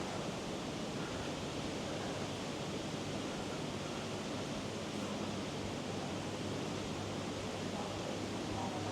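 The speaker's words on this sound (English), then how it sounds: "If you just listen, you just hear the sea and the wind" Faint, steady wash of sea waves and wind on a quiet Thai island, a continuous soft hiss with no distinct breaks, heard from an open-air courtyard.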